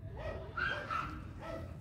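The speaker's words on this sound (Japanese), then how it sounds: "ワンちゃんがすごいね。" A dog barks three times at a moderate distance over a steady outdoor background hum, with the middle barks sharpest and no clear speech.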